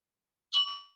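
A single small bell struck once to close a meditation session, a clear bright ding that rings out and fades over half a second in an otherwise silent room.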